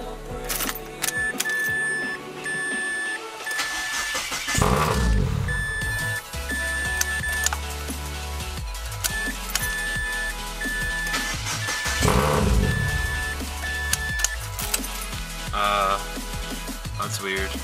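A Mazda car engine cranks but fails to catch after EGR and intake manifold work, with two heavy cranking bursts separated by a few seconds and a repeating electronic beep tone running through.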